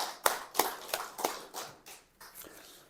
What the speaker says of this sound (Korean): 우리 하나님께 영광의 박수를 한번 올려주십시오